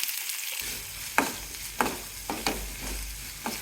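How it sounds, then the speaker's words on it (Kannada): Mustard seeds and onion fry in oil in a pan for a drumstick-leaf palya; after a brief quiet start a bright sizzle sets in, with spatula strokes scraping the pan at a regular pace. "ಸ್ವಲ್ಪ ಎಣ್ಣೆ ಹಾಕಿದ್ದೀನಿ, ಸ್ವಲ್ಪ ಸಾಸಿವೆ ಹಾಕೊಳ್ಳಿ, ಈರುಳ್ಳಿ"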